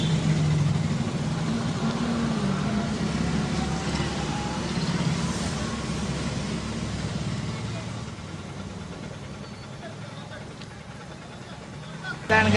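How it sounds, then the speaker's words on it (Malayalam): Road traffic passing outside, with cars and engines rumbling at moderate distance in a steady wash, fading slightly toward the end, while a person talks over it. "കുറേ വണ്ടിയൊക്കെ പോകുന്നുണ്ട് കേട്ടോ."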